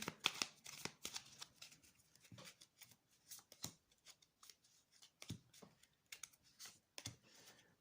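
Tarot cards being shuffled by hand in quick, close riffles and soft slaps, a run of irregular crisp bursts at fairly low volume with no talking.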